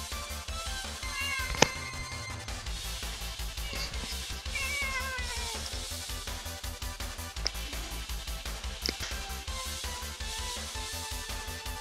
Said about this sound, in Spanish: A ver gato, ¿qué te pasa?